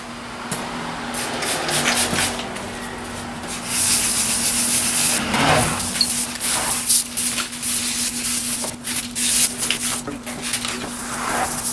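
Wet sanding of truck paint with 800 grit sandpaper, a steady rasping rub in repeated strokes, close and loud, with a constant hum underneath throughout.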